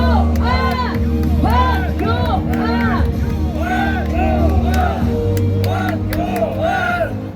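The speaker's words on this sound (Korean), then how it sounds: "여러분 큰 박수 부탁드리겠습니다." A large crowd at an outdoor political rally cheers, shouts and whoops continuously and loudly, with voices rising and falling over a dense hubbub of babble throughout.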